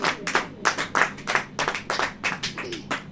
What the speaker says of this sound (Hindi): ताली बजेगी कि नहीं बजेगी?